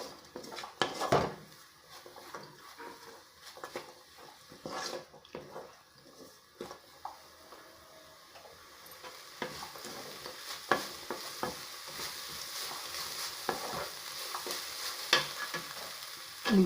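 Vermicelli shavige bath being stirred with lemon juice in a pan gives off a steady run of scraping and clinking from the spoon against metal, with faint sizzling in between and no voices.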